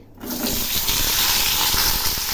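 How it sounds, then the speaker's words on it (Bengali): Sliced pointed gourd goes into hot mustard oil tempered with cumin seeds and a bay leaf, setting off a sudden, loud, steady sizzle that continues close up with no talking. "এখন আমি পটলগুলো ছেড়ে দিচ্ছি"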